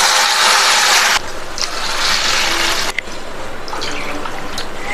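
Water is poured into a pan of sautéed vegetables for upma, a loud rushing splash for about a second that gives way to softer sizzling, bubbling and clinking of the pan.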